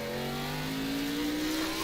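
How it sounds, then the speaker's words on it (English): A race car engine in an oval-track racing simulation at Phoenix revs up steadily under acceleration, a loud, continuous droning roar that climbs in pitch, with no voices over it. "And you can hear him gun the engine."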